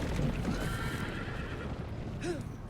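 A horse neighs in Telltale's Game of Thrones video game, a short whinny rising and falling near the start with hoof clip-clops and faint ambience, then a brief squeal-like call toward the end.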